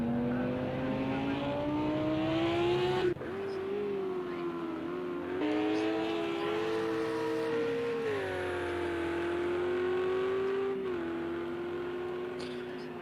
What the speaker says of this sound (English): We're just going to watch these cars go around for a bit.